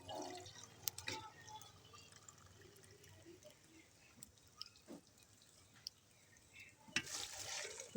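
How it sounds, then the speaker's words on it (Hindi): Chana frying with ginger powder in a pot gives a faint, low sizzle under occasional stirring scrapes and a few sharp clinks, with a louder burst of stirring near the end. "और 2 मिनट तक अच्छे से फ्राई करेंगे अदरक पाउडर डाल के"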